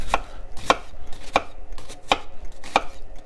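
A knife cutting vegetables at an angle for gumbo, five distinct, evenly spaced chops hitting a cutting board, close with quiet pauses between.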